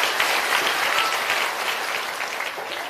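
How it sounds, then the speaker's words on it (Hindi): Crowd applause at an outdoor village rally in Banshagopal panchayat, Puraini block, sustained dense clapping from many people at steady loudness, fading slightly toward the end. "एक बार जोरदार ताली बजाइए प्रशांत जी को।"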